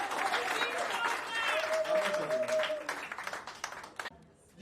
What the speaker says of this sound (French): je prie de l'acclamer très fort